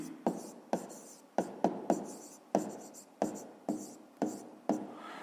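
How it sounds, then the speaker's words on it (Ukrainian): A pen scratches answers onto paper by hand in about a dozen short, separate strokes, close and quiet, each stroke a brisk scrape with brief gaps between. "Ну що ж, записуємо відповідь."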